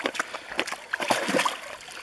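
Water splashes and sloshes as people and dogs go skinny dipping at a wilderness swimming spot beside a big rock, with close, irregular splatters and trickles over about two seconds.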